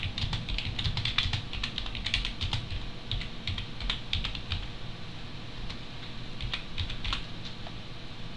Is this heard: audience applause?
no